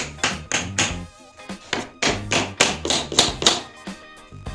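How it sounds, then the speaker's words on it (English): Wooden shims are tapped into place at either end of a tabletop clamp setup, giving a series of crisp, fairly close knocks in uneven bursts of two or three hits each, with no talking. "you can cut a couple yourself and just put them in on either end and tap them into place"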